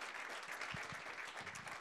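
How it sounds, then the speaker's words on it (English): Audience applause at a think tank talk, a steady wash of clapping from a crowd that holds at an even level throughout, with no speech over it. "Let's give him another round of applause."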